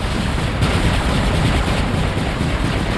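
Dense, continuous automatic gunfire from robot weapons in the War Robots 9.2 mecha battle game, a loud, unbroken barrage of rapid shots lasting throughout with no pauses.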